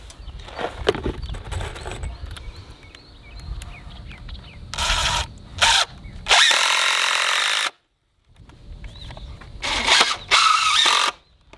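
A cordless power drill drives screws into the corners of a wooden pallet board in several short bursts of whirring, close and loud, separated by pauses and light handling knocks.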